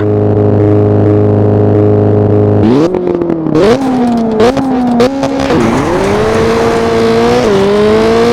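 A rally car engine in the video game Richard Burns Rally holds a steady drone, then revs up and down through several throttle surges and gear changes, loud and close, with tire noise mixed in.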